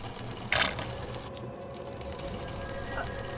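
A sewing machine runs with a steady mechanical whirring hum throughout, with a sharp metallic clatter early on and a faint tick later.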